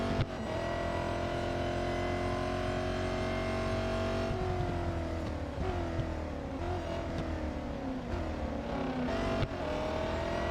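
A race car engine in the Real Racing 3 mobile racing game drones steadily at high revs, pitch sliding down and climbing again as it shifts and brakes, loud and continuous with no talk.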